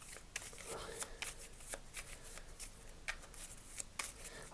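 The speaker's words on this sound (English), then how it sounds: "So let's give it a shuffle." A deck of cards for the tabletop game One Deck Dungeon is shuffled indoors in a hotel room, with crisp riffling bursts and quick flicks repeating in an irregular rhythm, close and fairly quiet.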